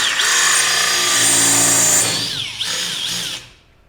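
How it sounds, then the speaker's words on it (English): A cordless power drill bores into wood with a steady loud whine that climbs in pitch as the speed goes up, dips briefly, then winds down and stops. "that's cutting pretty good, so I'm just going to step that up to a faster speed,"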